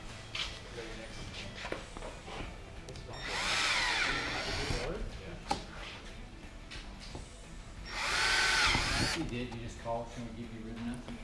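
A power drill with a 9/32 bit runs in two separate bursts, each a few seconds of rising whine as it enlarges holes for a Mustang Track Pack wicker bill, with handling clunks and quiet movement between.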